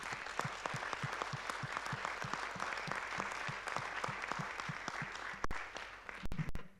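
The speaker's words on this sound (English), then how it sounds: "So if we could just give them a round of applause." A congregation claps steadily through a round of applause at a church meeting, a dense even patter of many hands held at a constant level, with a few sharp louder claps near the end.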